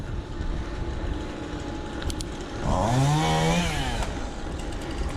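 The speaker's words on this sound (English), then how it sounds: "Chainsaw going." A chainsaw runs somewhere off along a rural lane near Warton village, faint at first, then rising into a louder, revving whine for a couple of seconds before easing back into quiet outdoor background.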